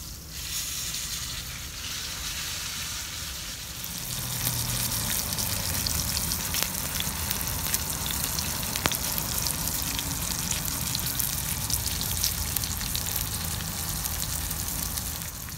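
A steak sears in a hot pan with a loud, steady sizzle and crackle that swells after a few seconds and continues unbroken for over ten seconds, with no voices.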